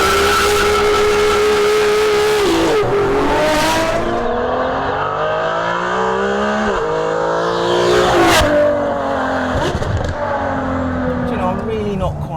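A Ferrari 458 Speciale front-engine road car revs and drives, its engine note loud and close as it climbs and drops repeatedly through sharp rising sweeps and gear changes.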